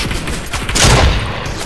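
Gunfire in the Fortnite video game, a dense burst of shots that swells in the middle and stays loud throughout, with no talking over it.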